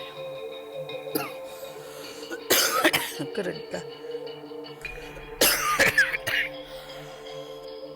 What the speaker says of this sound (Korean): 인터뷰가 여러 번 중단될 정도로 기침이 심합니다